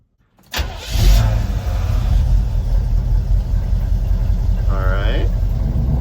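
Square body truck engine, fresh spark plugs installed, cranks and catches after a brief silence, then settles into a steady, loud, even idle close by, with a short spoken remark over it.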